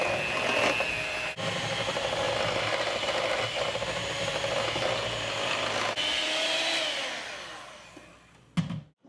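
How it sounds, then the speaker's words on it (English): A blender whirs through keto strawberry buttercream frosting, a steady close motor hum with a few brief stops and bumps, running for several seconds before cutting off with a clatter at the end. "We're going to blend this up for a little bit."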